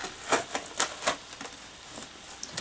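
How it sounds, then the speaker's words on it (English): Duct tape is carefully peeled up from a painted surface, giving a few close, sharp crackling rips in irregular bursts followed by fainter ticking. "you're gonna really carefully peel the whole thing up"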